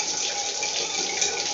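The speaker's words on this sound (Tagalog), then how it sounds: "Ayan naman, tulo lang ang tulo, mainit pa rin." Steady running water pours from a tap during an attempted bath, a continuous close hiss without distinct drips, with no voices.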